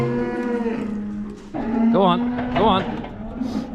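Cows in a farm shed moo loudly and close, with two drawn-out calls in quick succession over a lower sustained bellow, while someone speaks briefly nearby.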